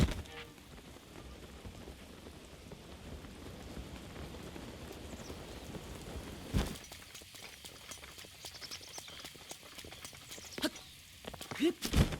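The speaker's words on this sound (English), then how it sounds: "Oh yeah, it's raining." Steady rain in Zelda: Breath of the Wild pattering evenly across the ground for the whole stretch, with a soft thudding burst partway through and a few scattered light clacks near the end.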